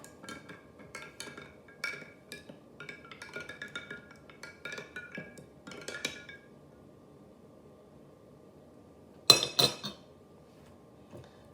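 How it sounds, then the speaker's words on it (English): A spoon clinks repeatedly against a glass while stirring eggnog, a quick run of light metallic taps and scrapes over several seconds, then a pause and a final louder burst of clinks. "Stir it up."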